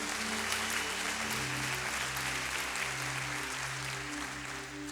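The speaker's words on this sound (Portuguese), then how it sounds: "Você pode dar uma salva de palmas para Jesus?" Church congregation applauding during a Portuguese-language worship service, a broad steady wash of clapping over sustained musical tones from instruments playing underneath.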